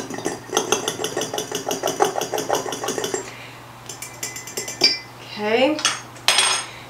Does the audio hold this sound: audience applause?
no